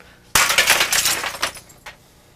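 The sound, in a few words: prop bottle of breakaway paper glass breaking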